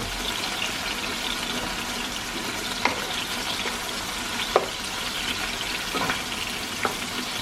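Seasoned food is turned over in a frying pan, giving a steady close sizzle and hiss throughout, with a few soft clicks from the utensil scraping the pan.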